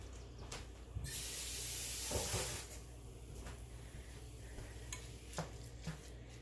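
Ground turkey cooking in a pan for a Mexican lasagna, giving a steady sizzle that swells into a loud stretch of hiss and spatter before settling back, with a few scraping clinks of utensil on pan.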